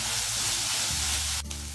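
Curry leaves dropped into onions frying in hot oil for a Kerala-style squid roast, a steady loud sizzle that flares briefly into a sharper crackle as they hit the pan.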